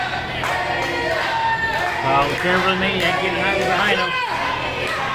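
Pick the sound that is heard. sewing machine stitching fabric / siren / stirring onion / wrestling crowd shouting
wrestling crowd shouting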